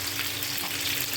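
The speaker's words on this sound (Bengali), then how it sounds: "মাছগুলো কিন্তু বেশি ভাজা দেবো না" Hilsa fish fries in a pan, giving off a steady, close, crackling sizzle with no talking.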